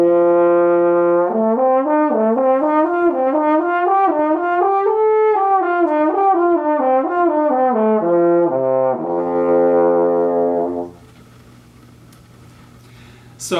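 A French horn plays short four-note figures, each group starting on a higher harmonic and climbing, then stepping back down, as clear sustained tones heard alone before the playing drops to a quieter held sound near the end.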